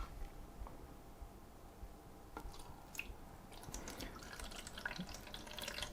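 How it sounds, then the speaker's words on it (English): Water trickles and drips into the tank of a small HAMSWAN WT-F26 portable air conditioner, faint and irregular, with scattered splashes and wet squishy sounds growing busier toward the end. "So let's fill up with some water and try not to get this everywhere."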